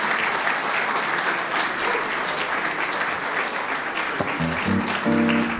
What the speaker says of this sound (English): take a big round of applause for all the nominees and the future award sponsors